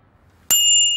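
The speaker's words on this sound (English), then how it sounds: "Oh, it rang its bell for me." A single bright bicycle bell ding strikes suddenly and rings on with a clear sustained metallic tone, close and alone after near silence.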